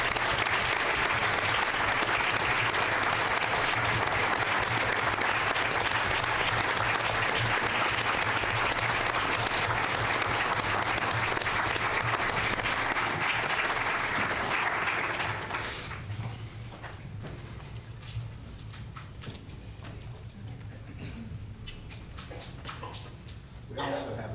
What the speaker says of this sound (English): give Mrs. Flanagan a round of applause